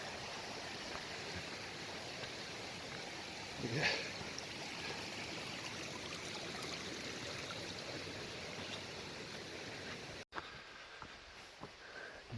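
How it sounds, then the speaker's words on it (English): Rushing mountain stream along a hiking trail to Hidden Lake in the North Cascades, a steady broadband wash of water heard close and constant, with a brief sniff midway and a single quiet word near the end. "Never far from the sound of rushing water."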